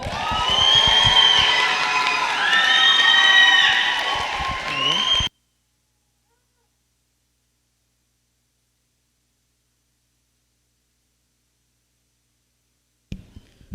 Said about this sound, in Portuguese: Então eu queria que você aplaudisse com muita festa, Edna Santini.